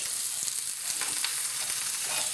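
A burger patty for a homemade Whopper sizzles and spits steadily in a hot pan, a constant crackling hiss with small pops, close and fairly loud.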